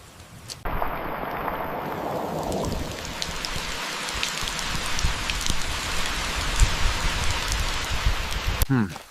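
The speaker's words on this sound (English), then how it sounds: "Rain's really coming down now." Heavy rain pours down steadily in a rainforest, a dense, close, hissing wash that holds at the same level throughout, with a brief voice near the end.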